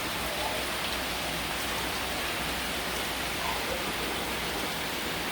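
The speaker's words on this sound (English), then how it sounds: "So we have rain here in the Philippines." Steady rain falls in the Philippines, a dense, even hiss of drops on surfaces that stays loud and unbroken throughout with no voices.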